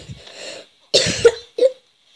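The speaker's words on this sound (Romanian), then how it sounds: "nu cred că pot să spun că sunt răcit, dar tușesc" A man coughs several times up close: a few harsh, separate bursts with short pauses between them, loud against a quiet background.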